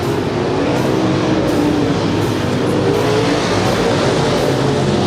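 Race cars circle Willamette Speedway at a Coca-Cola Classic event, a loud, continuous roar of several engines blending together with steady droning and no clear single pass, no voices over it.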